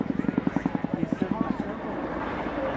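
An RAF Boeing Chinook helicopter flies a display at the Cosford airshow, its twin rotors beating in a fast, loud rhythmic chop that softens into a broader roar as it moves off.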